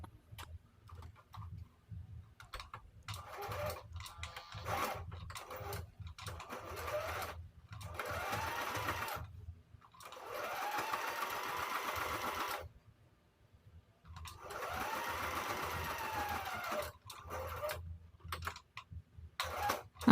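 Sewing machine stitching through the fabric of a bag, running in several bursts separated by short pauses, close and fairly loud with a steady low mechanical whir.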